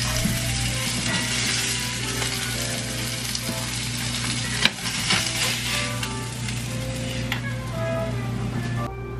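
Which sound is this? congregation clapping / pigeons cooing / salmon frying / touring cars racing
salmon frying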